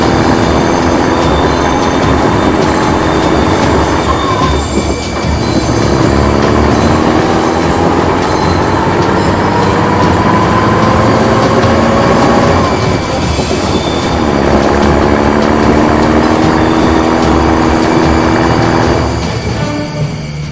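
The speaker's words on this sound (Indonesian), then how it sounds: "Kereta ini berjalan semakin cepat." A train rolls steadily along the rails, loud and close, with rumbling wheels and squealing, whining tones rising and falling throughout.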